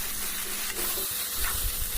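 Banana stem and potato stir-frying in a pan give off a short, steady hiss of steam and gentle sizzling, moderately loud and unbroken.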